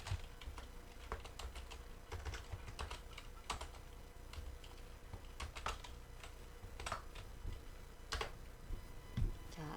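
Someone types text into an Excel spreadsheet on a computer keyboard, giving a steady run of close, crisp key clicks with occasional louder strokes, alone, with no voices.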